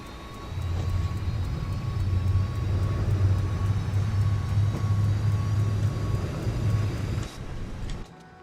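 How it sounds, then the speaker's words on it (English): Steady, loud auxiliary power unit hum from a Jet2 Airbus A321 parked at the stand in Microsoft Flight Simulator 2024, a continuous low drone with a faint whine that runs for about seven seconds before dropping off sharply. "So we're just getting the APU warmed up"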